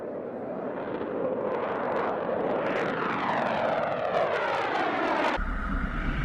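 A fighter jet roars through the air, a dense, continuous engine rumble with a rising, sweeping tone that stays loud and steady throughout.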